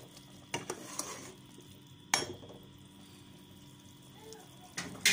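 Beef for an Eid-style kosha curry is stirred in a pan, giving a soft ongoing sizzle punctuated by a few sharp scrapes and clinks of the spoon against the pan, fairly quiet overall.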